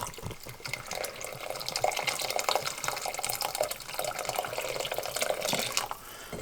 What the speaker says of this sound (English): you guys see how the water's floating over the chicken